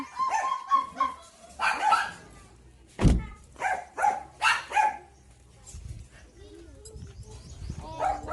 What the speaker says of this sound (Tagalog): Ayan, nag-iingay na yung mga aso ko.